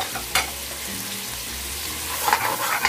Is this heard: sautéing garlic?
yes